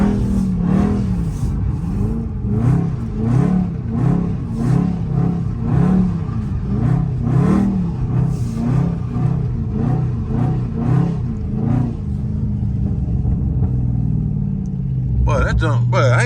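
A Dodge Charger Scat Pack driven in a tight circle on a wet road, its engine rumbling and revving in repeated rising surges throughout, with someone talking over it and the engine note dropping near the end.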